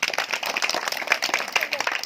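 A village street-show crowd claps in a busy, uneven patter, with scattered voices and chatter mixed in at moderate volume.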